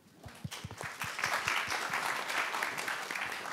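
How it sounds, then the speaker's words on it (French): Audience applause at a round-table panel discussion, starting with a few separate claps and quickly swelling into steady, moderately loud clapping from the room. "On peut l'applaudir."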